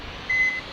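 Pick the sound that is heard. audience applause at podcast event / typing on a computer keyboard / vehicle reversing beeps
vehicle reversing beeps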